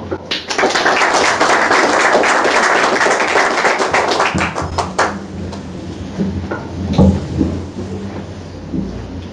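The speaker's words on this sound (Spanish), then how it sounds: "Un fuerte aplauso para ellos" Audience applause at an official book presentation, welcoming the guest editors and writers: dense, loud crowd clapping for about five seconds that thins out, followed by someone speaking over faint room noise.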